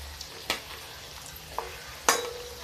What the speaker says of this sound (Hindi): ऐसे ही मैं सारी पूड़ियाँ फ्राई कर दूंगी।